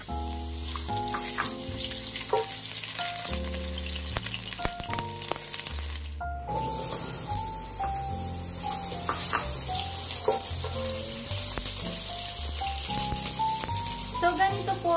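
Onions go into hot cooking oil in a kawali for ginataang gulay, giving a constant sizzle and occasional utensil clicks beneath steady background music.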